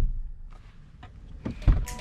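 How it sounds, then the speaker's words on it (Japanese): The door of a new Honda Odyssey Absolute EX e:HEV minivan, a model built with sound-insulating glass, swings shut with a single muffled low thud after some faint rustling. "ドアを閉めた音は"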